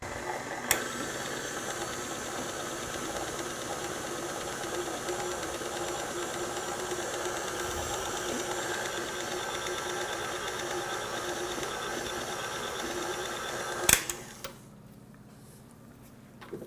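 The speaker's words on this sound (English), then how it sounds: "So this part I mix on low speed." Electric mixer running on low speed through a dense lemon saucing cake batter, heard as a steady, even mechanical whir that holds for about fourteen seconds and then cuts off sharply.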